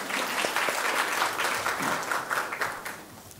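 Applause from an audience welcoming a Seoul National University sociology professor to the stage at a presentation competition opening, steady dense clapping lasting the whole stretch, moderately loud and roomy.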